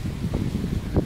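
Steady wind rumbles and buffets the microphone, with low gusty noise throughout and a couple of stronger bursts.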